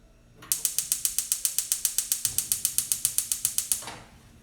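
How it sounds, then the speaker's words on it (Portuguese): A gas stove knob turned on in a home kitchen, giving a loud, close run of rapid, evenly spaced igniter clicks, about twenty sharp ticks that stop abruptly. "E vou ligar meu fogão."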